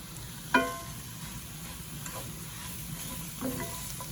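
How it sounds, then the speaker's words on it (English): Shredded cabbage is stirred into melted butter in a pan for a Polish noodle dish, making a quiet low sizzle with two brief knocks of a utensil against the pan, the first louder. "I'm stirring it to get it nice and coated in our butter"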